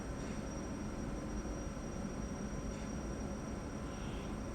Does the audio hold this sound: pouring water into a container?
no